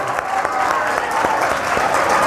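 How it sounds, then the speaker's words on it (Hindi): Audience at a Hindi-language career counselling session under a constitution-reading campaign gives steady, dense applause that fills the whole stretch at a fairly loud level, with a faint voice briefly audible beneath it. "ये आपके लिए तालियां हैं कि आपने इतना सहयोग दिया।"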